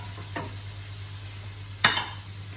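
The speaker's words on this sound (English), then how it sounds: "And then stir that through" A utensil stirs curry powder and turmeric through a pan, making two brief scraping strokes against the metal over a steady low background hum.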